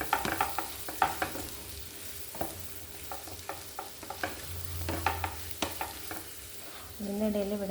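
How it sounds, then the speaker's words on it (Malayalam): A spoon mashes and stirs potato masala for masala dosa in a pan, giving soft, irregular scraping and tapping strokes over a faint sizzle. "ഉരുളക്കിഴങ്ങ് സ്പൂൺ വെച്ച് പതുക്കെ ഒന്ന് ഉടച്ചു കൊടുക്കാം"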